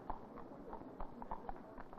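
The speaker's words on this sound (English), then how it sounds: "holidaymakers wake up to the sound of horses' hooves" Horses' hooves clip-clop steadily on the Douglas seafront on the Isle of Man in the early morning, the even, unhurried hoofbeats of horse trams sounding moderately close over a faint outdoor background hum.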